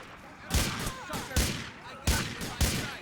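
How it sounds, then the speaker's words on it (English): Four heavy gunshots from GTA Vice City, using sound effects borrowed from GTA 4, crack out at uneven intervals, each a loud, booming blast with a short tail. "Guns no longer sound like a bunch of dickheads doing a load of roadworks, thanks to the sound effects from GTA 4"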